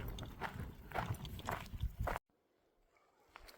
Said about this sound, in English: That's the rocks crunching under my boots.